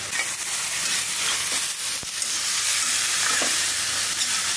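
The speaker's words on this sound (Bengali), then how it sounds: "কাঁঠালের বিচি এইভাবে তরকারি দিতে নাড়তে গেলে কেমন জানি লাগতেছে।" Jackfruit seed curry frying in a pan, a loud, continuous, close sizzle and hiss, with a few faint scrapes and taps of stirring, and no one speaking.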